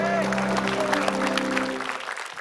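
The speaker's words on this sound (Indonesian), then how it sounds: "Tepuk tangan dulu untuk Abdur" An audience at a stand-up comedy show claps for a comedian, a steady round of applause under tonal music or voices that tapers off near the end.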